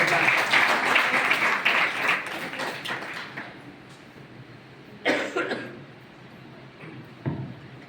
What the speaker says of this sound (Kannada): ವೇದಿಕೆಗೆ ಬಂದಾಗ ಚಪ್ಪಾಳೆ ತಟ್ಟು ಅವರಿಗೆ ಸ್ವಾಗತ